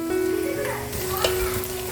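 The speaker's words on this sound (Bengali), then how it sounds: "এর মধ্যে সাদা তেল দিয়েছি, দিয়ে পেঁয়াজটা ভাজতে দিয়েছি" Onions fry in hot white oil in a heated wok, giving a steady crackling sizzle with a stir scrape midway, moderately close and continuous.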